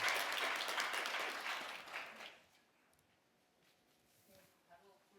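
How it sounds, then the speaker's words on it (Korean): An audience at a guardianship conference session claps to welcome a speaker, dense applause for about two seconds, then trailing off to a few scattered claps and quiet room noise. "큰 박수로 환영해 주시면 감사하겠습니다."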